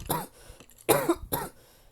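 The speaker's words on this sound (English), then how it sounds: "I may cough throughout this" Three harsh coughs from one person sound close to the microphone, the second strongest, with short pauses between them.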